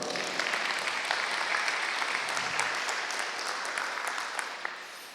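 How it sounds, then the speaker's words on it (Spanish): A church congregation applauds the Lord during a sermon, a dense, steady wash of clapping from many hands that holds throughout and thins slightly at the end. "¿Puedo darle un aplauso al Señor?"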